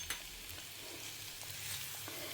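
Stuffing for stuffed snack peppers sautés in a pan, a faint, steady low sizzle with a few soft stirring scrapes and no voices.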